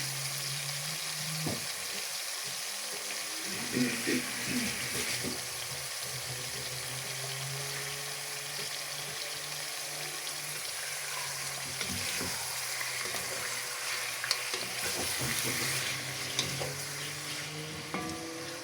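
Plov ingredients frying in a pan with a steady, fairly quiet sizzle, scattered stirring clatters and a faint low hum underneath, no talking.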